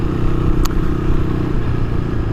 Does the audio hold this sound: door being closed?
no